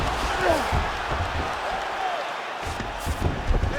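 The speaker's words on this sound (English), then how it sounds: "huge pop from the crowd as the fighters get back up to their feet" Crowd cheers in the UFC 5 video game as fighters get back to their feet, a broad roar with a swell partway through, under a commentator talking throughout.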